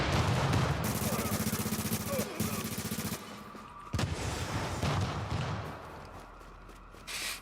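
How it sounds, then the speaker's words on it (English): A backpack keeps exploding in The Division 2, giving rapid, crackling bursts of pops like a fusillade that fade over several seconds, with a faint voice talking. "that was just the guy's backpack still exploding"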